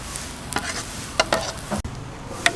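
Cha-om omelette frying in oil for a Thai sour curry with shrimp, a steady close sizzle with occasional scraping and clinking from a utensil against the pan.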